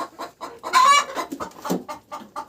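A broody hen clucks in a row of short, close, fairly loud calls, with one longer, louder squawk near the middle of the burst.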